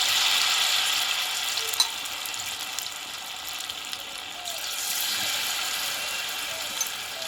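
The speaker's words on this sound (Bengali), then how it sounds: "এবার তেলে আমি এটা ছেড়ে দেবো এখানে আমি আরও কয়েক পিস দিয়ে দেবো" Raw potato and flour snack pieces frying in oil, a steady close sizzle with faint crackles and a few small clicks as more pieces are added.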